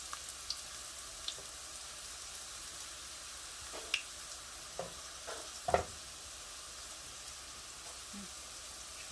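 Soft, steady sizzle of phyllo pastry rolls frying in hot oil, with a few sharp pops and crackles scattered through, fairly quiet and close.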